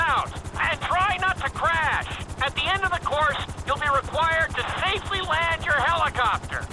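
A helicopter in the Grand Theft Auto V flight school speed course gives a steady, close rotor drone with a rhythmic low chop throughout, while someone talks over it continuously.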